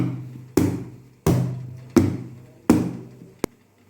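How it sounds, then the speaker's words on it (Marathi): A tin filled with dhokla batter is tapped down on a surface four times at a steady pace, each knock sharp and close, with a faint fifth tap at the end and no talk. "ह्याला आपण थोडंसं टॅप करणार आहोत"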